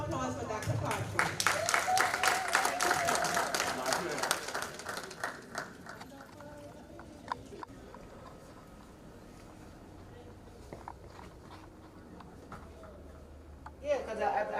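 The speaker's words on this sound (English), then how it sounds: "And one more round of applause for Dr. Carter." Audience applause at a symposium, a dense patter of many hands clapping for several seconds and then thinning out, with voices talking over the room as it fades.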